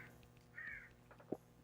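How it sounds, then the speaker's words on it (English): A crow caws outdoors, a faint distant call followed by a short, sharper caw, heard through a window over quiet indoor room tone with no talking. "There's a bird outside that wants to join in on the conversation apparently."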